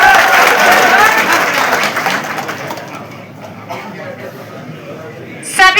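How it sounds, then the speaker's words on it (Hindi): A hall audience at a political gathering applauds new members joining the party. The loud, dense clapping gradually thins and fades into quieter crowd murmur, with a brief clatter near the end. "इनका जोरदार स्वागत तालियों"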